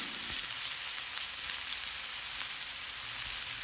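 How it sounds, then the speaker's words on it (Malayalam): Pieces of meat coated in ginger-garlic paste fry in a pan with a dense, constant crackling sizzle that stays even and close throughout, and no voices. "ഇഞ്ചി, വെളുത്തുള്ളി പേസ്റ്റൊക്കെ തേച്ച് പിടിപ്പിച്ച് ഫ്രൈ ചെയ്തെടുക്കാം."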